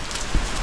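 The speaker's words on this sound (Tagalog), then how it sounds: "Medyo humina yung ulan." Steady rain patters on a surface near a hut, a soft continuous hiss with no voices over it.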